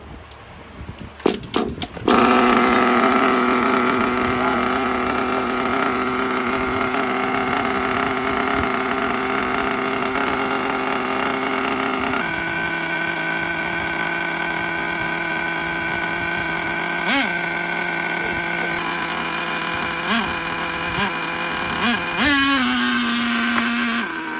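A small high-revving nitro engine in an HPI Savage 25 RC truck runs loudly and continuously with a buzzing whine, its pitch shifting a few times, after a brief sputtering start.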